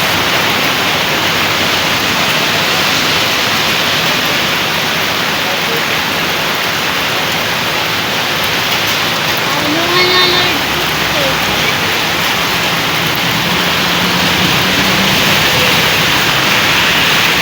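Heavy rain pours down in a dense, unbroken hiss that stays loud and even throughout, with a voice speaking briefly over it.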